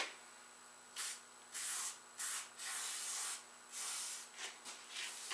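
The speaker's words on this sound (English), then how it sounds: "Actually, I'm going to take a little bit of brake cleaner." Brake cleaner sprayed from an aerosol can onto a motorcycle handlebar while swapping the grips: about six sharp hissing bursts of varying length, loud and close, separated by brief pauses, with no talking.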